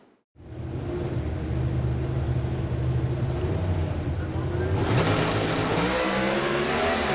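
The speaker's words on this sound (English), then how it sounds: "The 2 cars split off the starting line." After a brief hush, two Pro Stock drag race cars launch off the starting line at the NHRA Arizona Nationals with a loud, sustained engine roar that surges again midway, under commentary.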